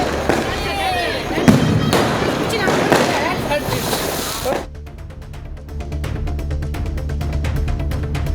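A guitar-shaped colour firecracker lit during Diwali bursts apart in the hand with a sharp crack, followed by several seconds of crackling, sputtering sparks and a steady fizzing hiss.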